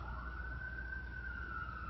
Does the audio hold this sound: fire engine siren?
yes